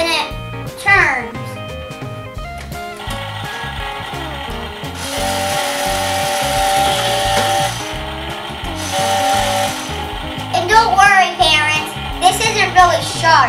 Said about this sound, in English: if you press this button right here, it makes the real sound of a chainsaw